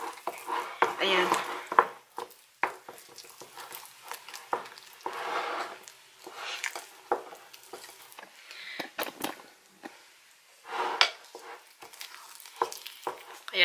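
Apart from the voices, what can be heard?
stirring white chocolate for strawberry fudge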